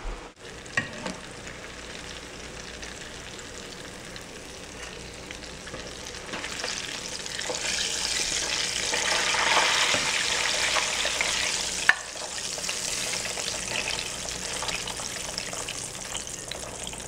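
Mozzarella sticks and onion rings fry in hot oil with a steady hiss and crackle that swells louder midway, then settles to a constant sizzle.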